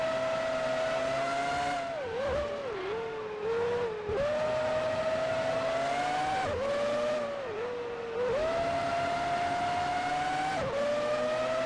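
A Formula One car engine in a 2003 British Grand Prix racing video game screams loudly and steadily, rising in pitch and dropping with quick gear changes about every two seconds, with no talk over it.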